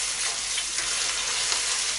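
Minced lamb and peas fry in a pan with a steady, loud, close sizzle that runs unbroken throughout, no voices.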